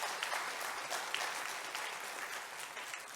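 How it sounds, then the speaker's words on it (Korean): A church congregation applauds its teachers after a sermon tribute, a steady, dense clapping that fills the room at moderate distance without pause for about three seconds. "우리 애쓰신 분들 위해서 한번 박수로 감사의"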